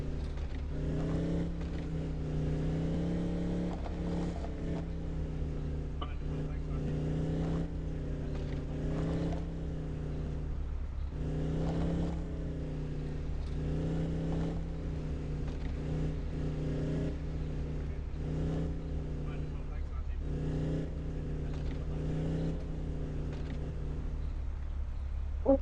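Steady car engine drone from the mobile video game Indian Theft Auto Simulator, a continuous low hum with slight swells in revving, running throughout with no talk.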